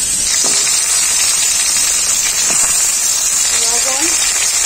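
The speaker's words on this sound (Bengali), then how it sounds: "ওই মাছ ভাজা তেলেই আমি সজনে ডাঁটাগুলো প্রথমে ভেজে নেব" Steady loud hiss and sizzle of drumstick pods frying in oil previously used for frying fish, a continuous close spatter with no voices.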